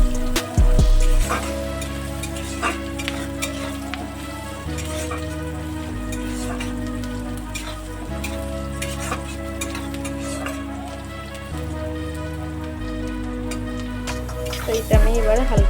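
Onion frying in a pan for a fish curry with ridge gourd, a continuous sizzle running under steady background music or tonal hum, with occasional brief clatters.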